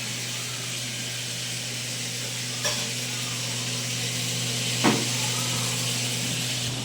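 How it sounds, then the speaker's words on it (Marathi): Fish frying in a pan in a home kitchen gives a steady, even sizzling hiss that carries on without a break, with a couple of faint clicks on top. "मच्छी फ्राय करतात"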